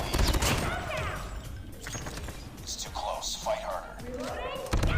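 Gunfire in Call of Duty Mobile, including an M13 rifle, rattles in quick bursts under near-continuous excited talk, with sharp impact sounds throughout.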